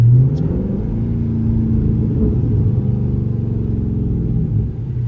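A Dodge 392 Hellcat V8 car engine rumbles deep and loud, revving and holding a throaty idle-like growl throughout, no voices.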